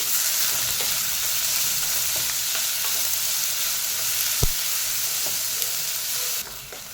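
Chopped onions and green chillies fry in a pan for paneer curry, giving a steady close sizzle with faint stirring scrapes and one sharp knock near the end, and no one speaking.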